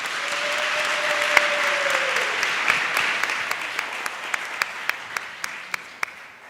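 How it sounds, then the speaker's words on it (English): An audience at a critical dialogues forum applauds together, a steady, dense wash of clapping that holds for several seconds and slowly thins into scattered individual claps toward the end. "we may give them a round of applause collectively"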